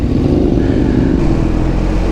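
BMW R 1250 GS motorcycle ridden in road mode, a steady, close engine drone with low rumble and no talking.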